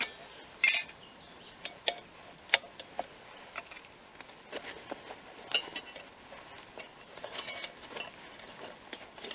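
A titanium spork clinks against a stainless steel nesting cup in a series of sharp, light metallic taps and rattles, scattered and fairly quiet, close by with no talking.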